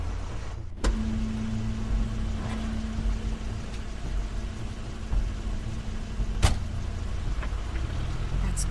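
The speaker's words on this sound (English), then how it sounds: "Crane's car." Crane's car in The Wolf Among Us, Episode 3, hums with a steady low mechanical drone throughout, broken by a couple of sharp clicks or thumps near the start and middle, with no talking.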